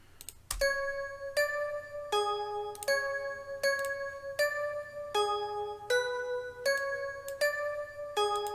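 A synth bell melody of bright, evenly spaced struck tones, about one note per second, each ringing with rich overtones and fading before the next.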